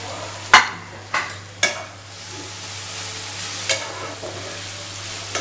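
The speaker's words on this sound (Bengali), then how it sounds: "মশলাটার সাথে একটু ভালো করে কষিয়ে নেব, যাতে কাঁচা গন্ধটা না বেরোয়" Ground spices, including Kashmiri chili powder and cumin powder, sautéing in a pan for vegetable dalia, with a constant close sizzle broken by several sharp clanks and scrapes of a spoon, no voices.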